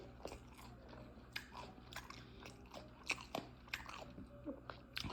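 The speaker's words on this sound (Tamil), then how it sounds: "சாப்பிட்றோம் பாருங்கள், வேறு லெவல் பிரியாணியை" Someone is eating biryani close up, with soft repeated crunches, bites and wet chewing in an uneven rhythm over a low steady hum, all faint.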